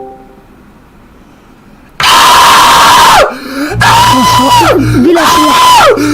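Loud, strained screaming from a streamer during a livestream, several long wavering yells in a row with brief breaks between them, close and harsh.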